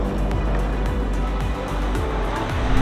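An Audi quattro car drives at speed, its engine giving a dense, continuous synthetic-sounding drone with rhythmic low pulses, close and steady throughout, with no voices.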